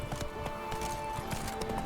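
Horse hooves galloping in The Witcher 3, a steady rapid clip-clop close by, with a faint whinny and game ambience underneath.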